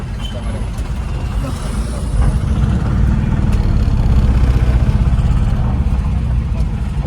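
A large vehicle's engine rumbles close by, growing louder as it pulls in and idles, with voices faintly in the background.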